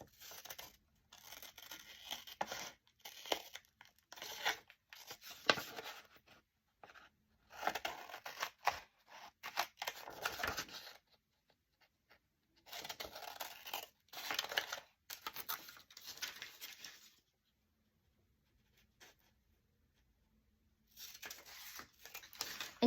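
Scissors cut a window out of thick journal paper, making close snips and rustling paper crinkles in scattered bursts broken by quiet pauses.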